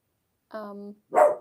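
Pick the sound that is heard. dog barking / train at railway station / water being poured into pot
dog barking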